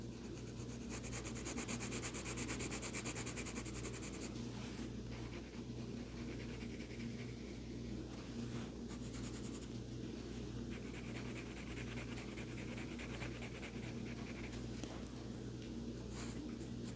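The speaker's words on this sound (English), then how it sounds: "I'm just gonna go over the whole thing a little bit here and there, turning my pencil" Colored pencil shading over a drawing of a popsicle on paper, a faint continuous scratchy rubbing with steady back-and-forth strokes, heard close and quiet without talk.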